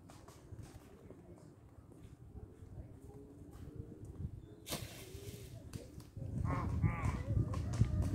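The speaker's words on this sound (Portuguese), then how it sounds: "Olha, pessoal montando de cavalo, tá vendo?" Horses ridden outdoors at a rural gathering, hooves and animal movement in a continuous busy rumble under crowd noise and voices, growing louder and denser toward the end.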